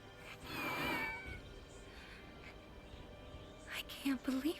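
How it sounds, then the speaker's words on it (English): A kitten in Final Fantasy VII Rebirth gives a faint, thin meow near the start, then a few short, higher mews at the end over quiet game ambience. "got a bunch of kittens out here"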